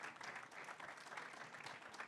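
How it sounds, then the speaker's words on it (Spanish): An audience at a debate applauds, and the clapping forms a continuous, even wash that sounds faint and somewhat distant. "Aplausos por ahí."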